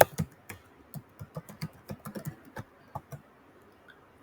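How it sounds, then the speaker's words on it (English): An email ID being typed on a computer keyboard, a run of quick, light key clicks in an uneven rhythm, close and clear, with no talk. "So you type an email ID."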